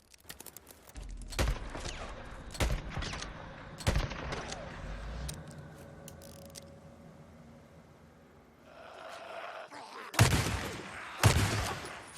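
Gunfire from a gun in the Days Gone video game: several loud, sharp single shots spaced a second or so apart, with game ambience and engine rumble between them and a couple more shots near the end.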